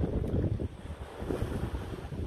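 Gusty wind blows outdoors by the sea, rumbling hard against the microphone in low, uneven buffets from start to end, with no voices.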